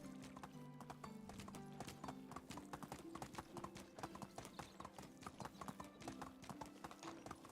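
Horse hooves clip-clopping steadily in the medieval village game Medieval Dynasty, a quick, even rhythm of hoofbeats with light ambient music beneath.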